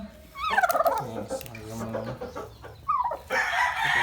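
Pakistani aseel cross chickens call loudly and close by: a rooster's harsh crow and a string of clucks and squawks, with fowl cackling again near the end.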